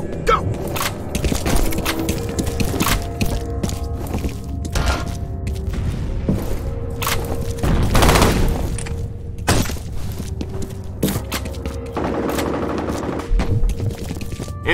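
Gunfire rattles in the F.E.A.R. Combat video game, dense bursts and sharp shots overlaid by a grenade explosion with a heavy boom midway, while players talk over the action.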